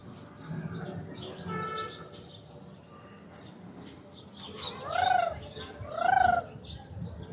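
A person whistles a bird-like call to attract peacocks in a holiday park, two rising-falling whistles near the end over faint outdoor chirps and murmurs, the voice imitating a bird.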